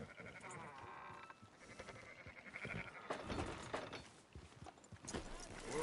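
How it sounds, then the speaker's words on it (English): Sheep bleating in the Red Dead Redemption 2 video game amid clattering hooves and mechanical game ambience, the calls moderately close and layered under light speech. "Fine sheep."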